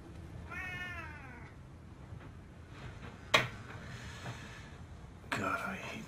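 A cat gives one clear, drawn-out meow early on, followed by a sharp click and a later burst of noise over quiet background.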